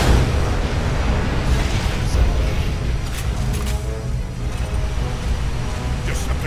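Continuous weapons fire and explosions from the Transformers: Revenge of the Fallen video game form a dense, loud wall of booms and bursts, steady throughout with no clear pauses.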